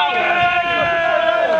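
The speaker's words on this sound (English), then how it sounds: "Oh, and the crowd loved that one." Crowd at the 2010 All England badminton championships roaring after a rally, a loud, sustained swell of many voices cheering close together for the whole stretch.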